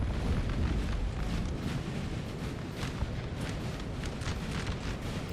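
Battlefield din from Napoleon Total War as French and Austrian forces clash, musket volleys crackling and popping over a dense, continuous rumble of distant fire, loud and unbroken throughout.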